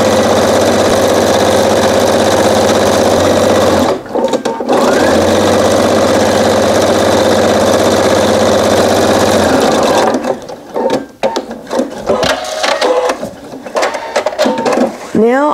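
A sewing machine runs steadily, stitching rows across a quilt, its motor humming loud and continuous for about ten seconds with one brief pause, then stopping into quieter handling noises and light talk.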